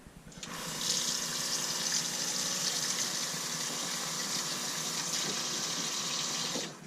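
Water runs steadily from a newly fitted faucet in a camper, a loud continuous close rush that starts abruptly, holds for about six seconds, and cuts off.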